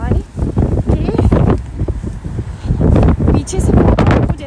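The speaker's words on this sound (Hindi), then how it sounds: "वो वाली हवा चल रही है यहाँ पे" Strong gusting wind during a life-threatening windstorm warning buffets the microphone in heavy, uneven roaring surges, with a voice speaking over it throughout.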